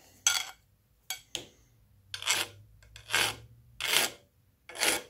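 A small pin held in a pin vise gets a slight edge chamfer with a hand file, giving seven short raspy strokes at a steady, unhurried rhythm, close and fairly quiet.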